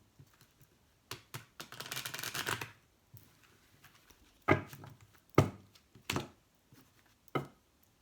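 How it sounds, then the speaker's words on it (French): Tarot cards being shuffled by hand, a longer riffling burst followed by several sharp separate slaps and taps, close and fairly quiet in a silent room. "je purifie, je nettoie mes cartes"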